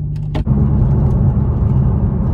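A Toyota Supra's engine idles steadily just after a cold start, a dense low rumble running throughout with a brief higher blip near the start, alone and close.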